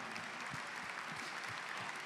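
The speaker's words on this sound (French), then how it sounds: "Marc Eberlin, sous vos applaudissements, qui nous rejoint." Applause at a gastronomy and wine awards ceremony as an honorary trophy is presented, an even, sustained clapping from the audience with no voices over it.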